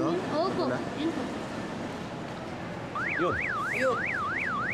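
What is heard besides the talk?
car alarm triggered by key remote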